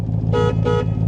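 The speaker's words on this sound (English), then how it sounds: "Horn." Two quick, close beeps of the horn on a 1965 Backdraft Racing Cobra replica, sounding over the deep idle of its Coyote V8.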